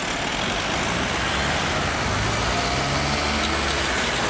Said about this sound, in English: Purple car's swerving in between all the cars, it's managed to pass